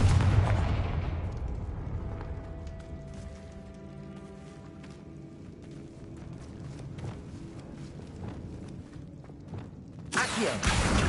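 Confringo spell blasts in Hogwarts Legacy on PlayStation 5: a loud burst of booming explosions opens, settling into a lower rumbling stretch of game ambience with scattered impacts and footsteps, then a second heavy blast near the end.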